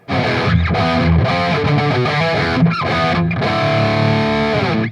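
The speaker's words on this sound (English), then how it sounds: "I love this breakdown riff" A distorted electric guitar plays a breakdown riff, chugging palm-muted chords in a tight, stop-start rhythm with brief gaps, close and loud, played alone.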